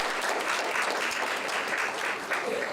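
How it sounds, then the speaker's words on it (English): Steady, full applause from a crowd, sustained without pause. "So let's give all of them a round of"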